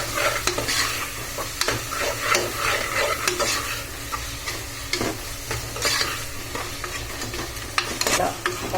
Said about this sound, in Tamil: நல்லா போட்டு வதக்குங்க. நல்லா எண்ணெய் பிரிஞ்சு வரணும்.